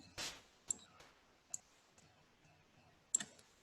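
A mouse click pressing the Record screen button in Camtasia, heard as a few sharp, isolated clicks spaced apart in a quiet room, with no talking.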